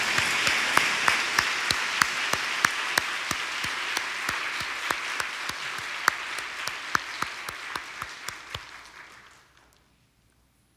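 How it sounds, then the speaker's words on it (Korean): Church congregation applauding in a sustained wash of many hands, with sharp louder claps standing out, steady for about nine seconds before fading to quiet. "여름에 막 소나기 올 때 그런 박수를 쳐달라고 목사님이 그랬잖아."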